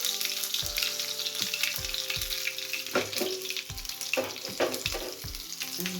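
Oil tempering sizzling in a pan with green chili and asafoetida, a steady crackling fizz with repeated popping spatters, close and fairly quiet, no voices.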